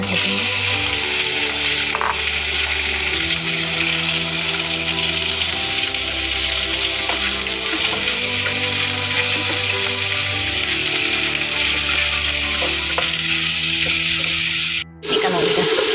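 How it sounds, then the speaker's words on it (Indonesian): Meat for lu ro' fries in oil in a pan, giving a steady, dense sizzle and crackle that runs continuously at close range with a few clinks, cutting out abruptly near the end. "dagingnya harus digongsaw dulu ya guys, atau digoreng dulu sampai minyaknya itu keluar"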